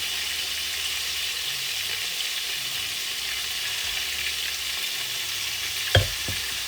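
Broccoli, carrots and cabbage cook in a pan with a steady, gentle sizzle, and a single sharp clink of a utensil near the end, with no talk.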